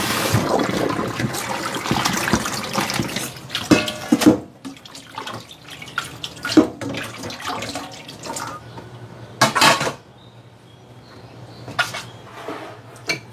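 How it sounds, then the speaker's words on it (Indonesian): Soaked ingredients being washed under running water, a steady gushing flow with splashing surges and rinsing as they are handled, close and continuous with a few louder bursts of water. "Saya sokkan, terus kemudian dicuci."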